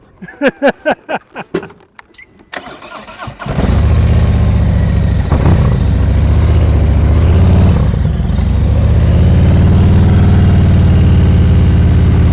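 A motorcycle engine runs loud and close during slow-speed riding practice, holding a steady drone with slight rises and dips in pitch. A short burst of voices and thuds comes before it starts.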